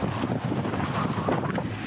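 A 31 ft sailboat motors upwind under staysail in 25 to 30 knot winds crossing the Bay of Biscay, with constant buffeting wind noise and rushing water washing against the hull throughout.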